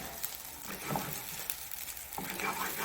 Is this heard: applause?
no